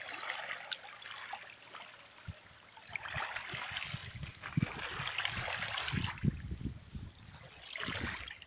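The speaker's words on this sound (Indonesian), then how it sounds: "Inilah dia sungainya guys." River water flows and trickles softly along the Tongod river in Kinabatangan on a fishing trip, a faint, steady gurgle with small splashes.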